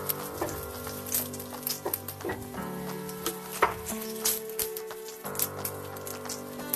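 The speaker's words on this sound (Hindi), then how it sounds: "हल्का ब्राउन होने तक इसको फ्राई कर लेंगे।" Chopped onions sizzle and crackle in about four spoons of hot oil in a pan for vegetable poha, a steady close frying hiss with scattered pops, alongside a faint musical tone.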